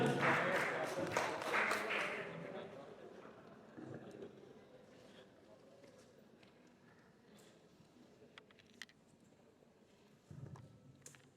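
Applause breaks out at a press conference for a speaker, a burst of clapping that fades within a couple of seconds, followed by a quieter room with scattered small knocks and rustles.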